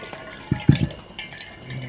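Water dripping from curd tied in a hanging cloth for homemade shrikhand, a few soft close drips landing in quick succession over a faint background hush.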